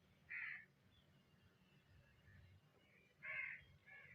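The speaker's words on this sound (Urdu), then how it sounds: "شاید آپ بیک گراؤنڈ میں بھی آواز سن رہے ہوں گے کوے کی۔" Two separate crow caws sound in the background, one early and one later with a shorter follow-up call, set against a quiet, steady low hum.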